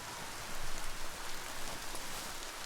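Steady rainfall in the video game Biomutant, a dense, even patter that swells slightly early on and continues unbroken, with no voices.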